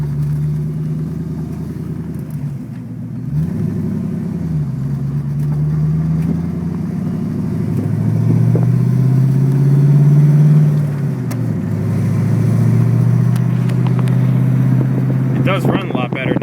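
A Ford Mustang 5.0 V8 with an idle problem is revved through a simulated drive, the engine rising and falling in pitch as it climbs and settles, loud and close, with a brief clatter near the end.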